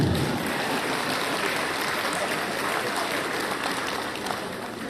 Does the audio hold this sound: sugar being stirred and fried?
no